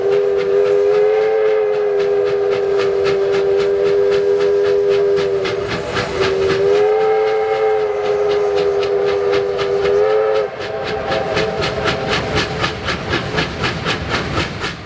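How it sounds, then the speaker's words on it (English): A steam locomotive blows its whistle on the elevated Flinders Street Viaduct railway in Melbourne, sounding long, loud, sustained blasts with brief breaks and pitch shifts, over rhythmic chuffing and rail clatter. "for the drivers to put on a bit of a whistle show here"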